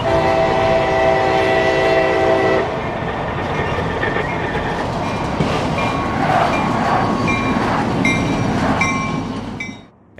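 A local freight train on the ex-Tampa and Gulf Coast line sounds its horn loudly with a sustained chord, then rumbles and clatters steadily past with wheel squeal, before the noise drops away at the end.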